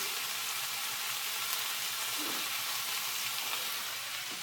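A steak laid face down in a hot pan sears with a loud, continuous, even sizzle that holds steady throughout, with no voices.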